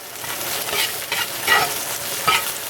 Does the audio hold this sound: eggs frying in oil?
yes